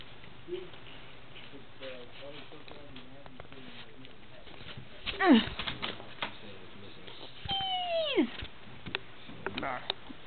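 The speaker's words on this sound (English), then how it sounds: "Kitties." A pet cat lets out two drawn-out meows several seconds apart over a quiet room, with a person talking softly in the background.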